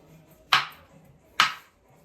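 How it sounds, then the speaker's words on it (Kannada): A knife chops vegetables for rice on a board, two sharp separate chops about a second apart, close and crisp over a quiet background. "ಆಗ್ಲೇನೆ ತೊಳೆದು ಇಟ್ಟಿದ್ದೆ, ಈಗ ಕಟ್ ಮಾಡ್ಕೊತಾ ಇದ್ದೀನಿ."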